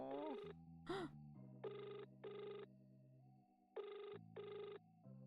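A video game telephone rings for a phone order: synthetic electronic bursts in spaced pairs over a low tonal hum, close and clean, with no talk.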